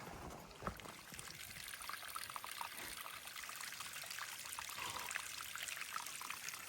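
Water trickles and dribbles steadily from a spring on the Appalachian Trail, a soft, close babbling with small splashes, quiet and unbroken.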